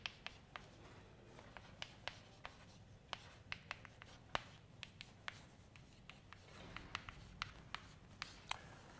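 Chalk taps and scratches across a board during a physics lecture in a quiet room, sounding as irregular sharp clicks and short strokes, close and moderately loud, with no talking.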